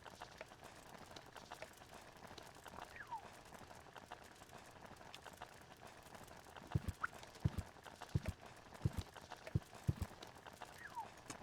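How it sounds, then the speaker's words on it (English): Footsteps from the point-and-click video game Deponia, a series of sharp, fairly loud thumping steps in a steady rhythm over a quiet background hum, starting midway and repeating several times. "the footsteps are quite loud, aren't they?"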